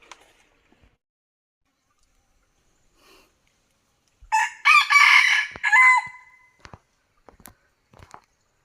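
A decoy rooster and wild junglefowl crow in a forest hunting setting: one loud, close, drawn-out crow rises out of near silence midway, followed by a few faint scattered clicks and rustles.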